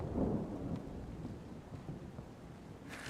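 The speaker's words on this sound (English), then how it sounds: "No ships, only storm." Thunderstorm in a lighthouse keeper video game: a low rolling rumble of thunder at the start fades into steady rain and wind, faint and continuous.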